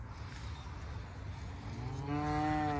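Cows mooing close by on a ranch pasture in spring, a long low harmonic moo rising out of steady outdoor background noise near the end.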